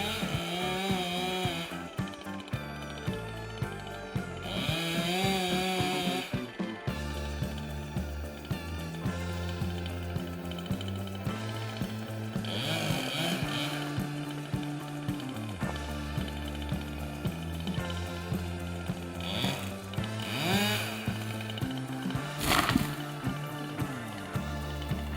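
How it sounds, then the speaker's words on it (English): A chainsaw roars through a large tree trunk as snow falls, the engine loud and near, surging and dipping in pitch as the chain bites into the wood, with no talk over it. "Snowflakes fall as a chainsaw roars through a tree trunk"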